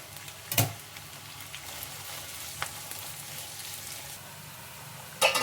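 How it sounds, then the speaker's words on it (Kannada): Onions fry in a pan on their way to golden brown, a soft, steady sizzle at low level broken by a few sharp stirring clicks and scrapes. "ಈರುಳ್ಳಿ ಎಲ್ಲ ಚೆನ್ನಾಗಿ ಗೋಲ್ಡನ್ ಬ್ರೌನ್ ಬರೋವರೆಗೂ ಚೆನ್ನಾಗಿ ಫ್ರೈ ಮಾಡ್ಕೊಳ್ಳಿ"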